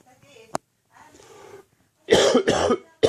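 Two loud, harsh coughs in quick succession from a man indoors near a tabletop wargame, following faint rustling, a click and quiet vocal sounds, with a third cough beginning at the very end.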